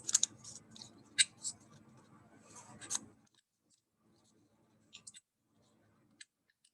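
Scissors snip through a folded paper sheet to cut it into quarters, several quick crisp cuts in the first three seconds followed by a few faint isolated snips, close and quiet, in a Grade 1 classroom lesson.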